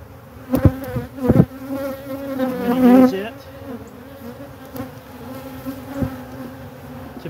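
Honey bees buzzing at an opened Layens hive, a close, continuous insect drone with a louder wavering swell as bees fly near, punctuated by a few sharp knocks.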